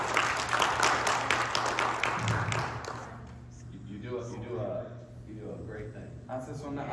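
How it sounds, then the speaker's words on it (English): An audience gives dense applause that fades out after about three seconds, and a voice then talks over the quieter room. "Give him another cheer. Dale otro aplauso."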